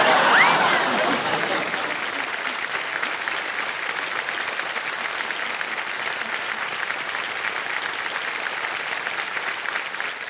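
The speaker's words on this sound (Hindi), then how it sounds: "और जितनी महिलाएं बैठी हैं सब ताली बजा रहे हैं" Sustained applause from a studio audience of seated women on a TV quiz show set, a dense steady wash of clapping that starts slightly louder and holds evenly throughout with no voices on top.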